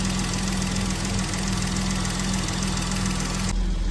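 A Porsche Boxster 986 engine idles steadily before reaching operating temperature, a close, even mechanical rumble with a constant low hum, cutting off abruptly near the end.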